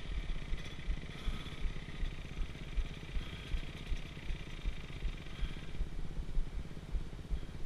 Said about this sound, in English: It's a two-stroke. Anytime you can, shut it off, shut it off. It's not meant to idle, it's meant to race.